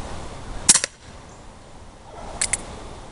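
Colt Single Action Army CO2 BB revolver fired at a skull-shaped pellet trap, two sharp reports each followed quickly by the metallic clack of the BB striking the trap, heard close and alone.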